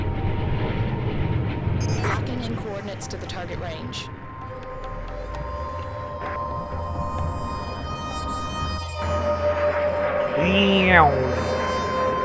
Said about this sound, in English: these spaceships sound like frickin' planes